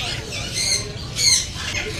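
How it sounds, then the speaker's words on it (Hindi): A breeder pair of white moon parrots at a busy exotic bird market squawks in harsh, high-pitched calls, two louder bursts close by over a murmuring crowd, with voices in the background. "ये व्हाइट मून पैरेट का पेयर है?"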